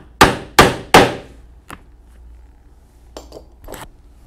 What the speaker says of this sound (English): we will punch holes for some grommets